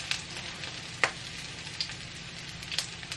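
Chickpea patties fry in olive oil in a pan with a soft, steady sizzle. A few sharper pops and crackles stand out, and no one speaks.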